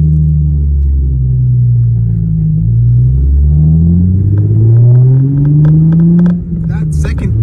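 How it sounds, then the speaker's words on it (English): An Infiniti G35 coupe with a six-speed manual and a Kinetix intake manifold pulls hard in second gear, its loud engine note climbing steadily in pitch with a deep rumble, close and continuous. "That second gear pull just now, see, it felt really nice."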